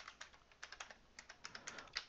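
Computer keyboard keys tapped in a quick, uneven run of light clicks while a command is typed on a Raspberry Pi setup, quiet and close with no talking.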